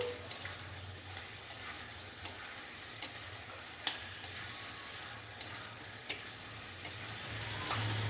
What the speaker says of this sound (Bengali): এবারও আমি কিছুক্ষণ এইভাবে নেড়ে চেড়ে কষিয়ে নিচ্ছি